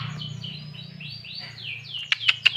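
A mini green leafbird (cucak hijau mini), a small songbird, chirps in a run of quick high sweeping whistles, ending in a few sharper, louder tweets over a faint low hum.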